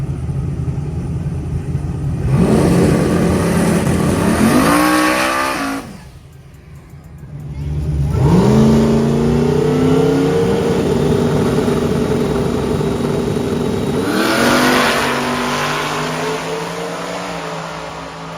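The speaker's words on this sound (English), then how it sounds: "What a drag race." Race cars launch and accelerate hard in a drag race, heard as loud, sustained engine roars with rising pitch in several waves, one swelling after a brief dip, all fairly close.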